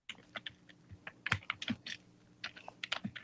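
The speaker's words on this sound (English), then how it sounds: "That's Dane typing on the computer." Dane types on a computer keyboard, producing a quiet, irregular run of close, soft clicks and key taps with uneven pauses between bursts.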